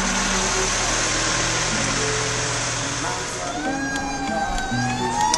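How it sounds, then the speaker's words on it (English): Sirens of three fire trucks wail steadily in the distance, rising and falling, with a crowd murmuring and traffic rumbling close by. "We had the sirens going today, and three trucks"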